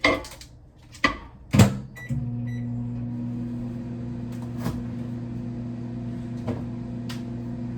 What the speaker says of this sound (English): I'm gonna microwave them briefly